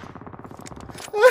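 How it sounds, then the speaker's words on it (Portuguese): A pistol shot fires in a video game, one sharp, loud crack at the very end of the clip, right after a stretch of someone talking. "E esse tiro de pistolinha, hein?"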